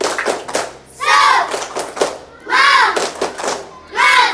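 Schoolchildren in a classroom clap a rhythmic spirit cheer in three bursts, each made of quick patterned claps, close and loud, with a voice chanting along.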